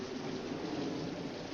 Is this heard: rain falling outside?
yes